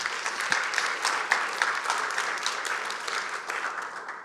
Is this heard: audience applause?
yes